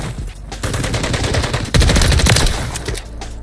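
Loud, rapid automatic fire from the MCW rifle rattles continuously for several seconds, with dense overlapping shots and no talk.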